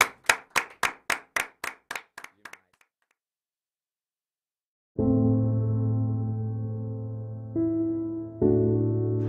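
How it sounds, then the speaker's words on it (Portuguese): A short burst of hand claps, about ten quick sharp claps that trail off, then silence before a steady tonal hum takes over. "Palmas para o Manuel Silva."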